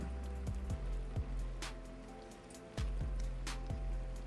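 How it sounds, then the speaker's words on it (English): Cooked spaghetti dropped in batches into a pan of garlic and oil, giving several wet slaps and squelchy thumps spaced a second or so apart over a low sizzle and hum, close-up and moderately quiet. "once the pasta is ready, go ahead and add it right into your pan"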